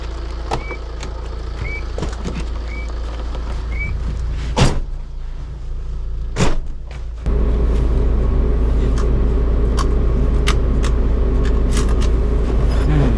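A 2009 Tata Safari Dicor SUV with a 2.2L diesel engine, GX 4X2 BS IV, heard from inside: a few door thuds and clunks, then the diesel rumble rises and settles into a steady, loud drone as it pulls away.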